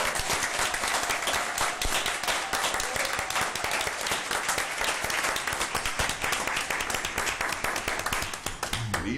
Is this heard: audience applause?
yes